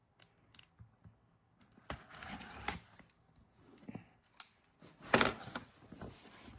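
Scissors snip and cut at packaging while a Discmania Noodle Arm disc golf mystery box is opened, giving a series of close, crisp irregular snips and rustles with a louder cutting burst near the end.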